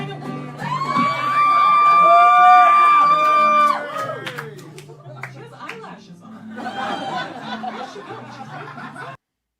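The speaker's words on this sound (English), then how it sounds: "The crowd was way too fucking loud." A live comedy-show audience erupts in loud cheering, whoops and laughter that peak early, fade, then swell again as a voice speaks over the noise.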